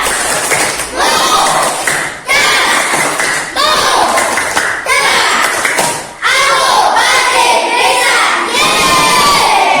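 Schoolchildren in a classroom perform a tepuk matematika clapping chant. Loud, energetic shouted chanting is punctuated by rhythmic claps and thumps, repeating in phrases broken by brief gaps.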